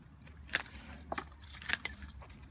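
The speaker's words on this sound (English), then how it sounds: "these shorter branches, I will just cut it with the loppers for now" Loppers snip through maple bonsai branches in three sharp, crisp cuts spaced about half a second apart, close and isolated against a quiet background.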